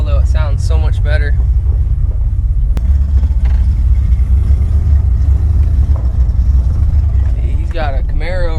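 A Chevrolet Silverado with a cammed 6.0 V8 and a new exhaust. It gives a steady, loud, deep rumble the whole time, and a person talks over it at the start and again at the end.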